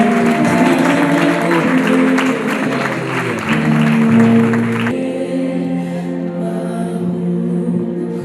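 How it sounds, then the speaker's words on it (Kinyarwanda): Church congregation clapping loudly and continuously at a pastoral ordination service, a dense sustained applause that fills the room and stays steady before easing slightly toward the end. "Dukomere Yesu amashyi."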